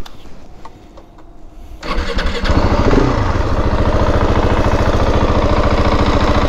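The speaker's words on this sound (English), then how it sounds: "Let me start the engine." A KTM 690 Enduro R single-cylinder motorcycle with its large stock exhaust, quiet at first, then catches about two seconds in and settles into a loud, steady, fast-pulsing run close by, with no talking.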